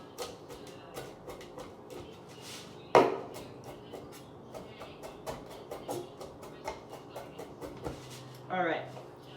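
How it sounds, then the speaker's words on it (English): A knife chops parmesan for biscuit dough on a cutting board, giving a steady run of close, sharp taps with one louder knock partway through and a quiet voice talking over it. "So I'm going to chop this and sprinkle it over the dough right when I roll it out."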